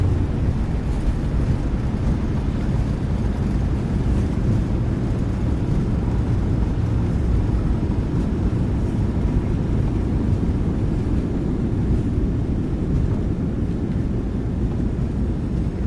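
Boeing 737 (PMDG, MSFS 2024) reverse thrust just after touchdown: a steady, loud low-frequency engine roar with broadband rushing noise, sustained without a break for the whole stretch and no talking.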